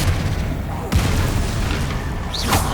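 A deep, rumbling Confringo spell blast in Hogwarts Legacy, fought against Inferi, bursts out under continuous spell-casting chatter and busy combat ambience, with a later whooshing swell.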